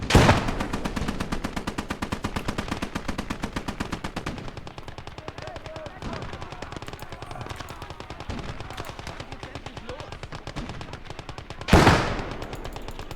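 Rapid, sustained machine gun bursts roll through a war video game battle, steady and loud for most of the stretch, with a sharper gunfire burst near the end and a few voices under the shooting.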